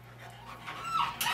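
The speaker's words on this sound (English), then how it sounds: "I had to go to Serbia to get a dog like this" A dog obtained from Serbia pants softly and quickly at close range, with a faint whimpering edge, brief and fairly quiet with no talk.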